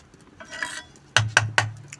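Tamarind seeds dry-roasting in a frying pan: a soft scrape and shuffle, then three sharp clattering knocks of seeds and utensil against the metal pan in quick succession.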